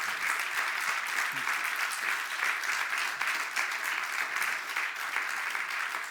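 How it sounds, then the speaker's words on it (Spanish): Audience at a Spanish congress on terrorism applauding the panel members, a steady, dense wash of many hands clapping that keeps up evenly for six seconds with no letup. "vamos a dar un fuerte aplauso a los componentes de la mesa."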